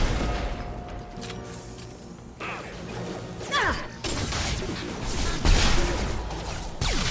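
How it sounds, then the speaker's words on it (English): Mass Effect 2 combat: a burst of explosive crashes and booms as an enemy's head is shot off, mixed with mechanical clanks, impacts and gunfire in a chaotic stretch of gameplay. "when you shoot off the head, it creates like a catastrophic explosion"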